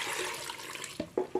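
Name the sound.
water poured into pressure cooker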